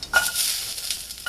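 Garlic, asafoetida, cumin and onion sautéing in a pan: a soft, steady sizzle with brief stirring scrapes, close by.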